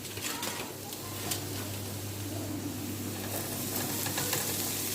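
Chicken added to browned onions fries in a pan with a constant dense sizzle over a low steady hum, with faint mechanical clicks throughout.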